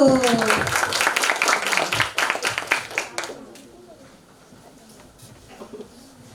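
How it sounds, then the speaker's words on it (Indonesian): Classroom clapping, with loud, close hand claps in a quick, uneven burst over voices that thins into scattered claps and quiet room noise. "Tepuk tangan untuk kelompok 1."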